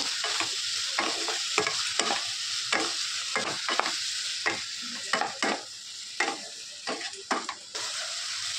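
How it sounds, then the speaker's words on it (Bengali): A spoon scrapes repeatedly through bottle gourd curry in a pan as cumin powder is mixed in, giving a steady rhythm of stirring strokes over a continuous soft sizzle, close up with no voices. "হালকা জিরের গুঁড়ো ভালো করে এবার নাড়াচাড়া করে নেব।"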